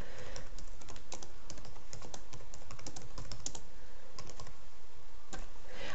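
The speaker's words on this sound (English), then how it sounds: "If you prefer to chat to them, you can type a message in this bottom box here." Steady typing on a computer keyboard while composing a chat message, a close run of quick key clicks with brief pauses and a few heavier keystrokes.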